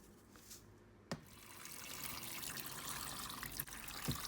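Tap water runs faintly into a sink while potatoes are washed in a home kitchen, a soft continuous trickle with a couple of small knocks and splashes.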